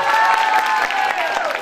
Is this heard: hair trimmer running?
no